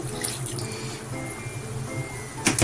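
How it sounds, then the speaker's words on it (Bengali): Water poured into a pot of chicken pilaf cooking on the stove, a steady close rush and splash lasting a couple of seconds, with a brief louder burst at the end. "তো এবারে পরিমাণ মতো জল দেব"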